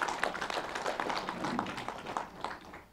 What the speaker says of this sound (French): Je vous demande d'applaudir les 4 organisations pour leur contribution.